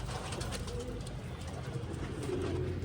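Pigeons, including a black female and an Andalusian male, cooing continuously in a small cage inside a loft, with layered low throaty coos close by.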